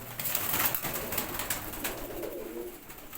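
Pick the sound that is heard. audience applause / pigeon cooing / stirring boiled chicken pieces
pigeon cooing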